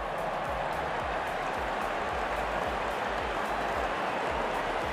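Stadium crowd in the Real Cricket 22 mobile game cheers and claps in a dense, continuous wash as the openers walk out before a T20 match, steady and fairly distant with no voices.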